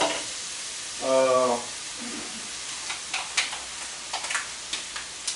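Onions cook in a pan for moussaka over lowered heat with a quiet, steady sizzle, a short tonal hum near the start, then light ticks and stirring clicks.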